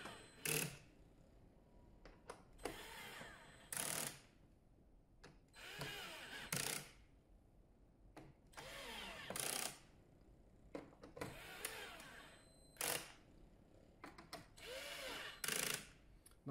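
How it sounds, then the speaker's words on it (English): A power tool drives screws tight on an Automower 305 robotic lawnmower, with about a dozen short, loud bursts of whirring and ratcheting that start and stop abruptly, separated by quiet pauses. "before everyone starts commenting about using power tools on these screws"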